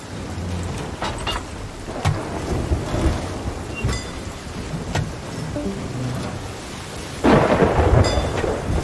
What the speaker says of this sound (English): And lightning's gonna try to strike us.